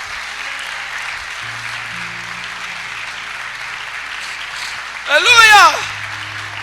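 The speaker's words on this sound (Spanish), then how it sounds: "Ese aplauso para ti, Señor." A steady wash of congregation applause fills a church, with low sustained keyboard tones underneath, and a voice briefly calls out over the clapping near the end.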